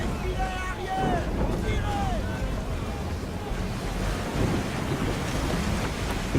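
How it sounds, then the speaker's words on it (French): A storm at sea in Assassin's Creed 3 brings a constant roar of wind, rain and crashing waves aboard a sailing ship, with rumbling thunder underneath and brief creaking or whistling tones on top. "Est-ce qu'on peut prendre une seconde pour observer la tempête?"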